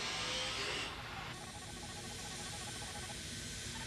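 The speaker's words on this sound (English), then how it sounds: "A second way to remove rust is to use a sand blaster." A sand blaster blows sand from its nozzle at high speed to strip rust, making a steady broadband hiss that is slightly louder at first and then settles into a constant rush.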